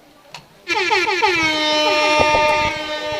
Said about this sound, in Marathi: बघा भोंगा वाजला,